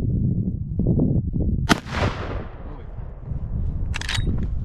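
A Marlin 1895 lever-action rifle in .45-70 fires a single loud, sharp shot at a small pumpkin outdoors, the blast decaying into a rolling echo, followed by a brief metallic action click, with low background rumble throughout.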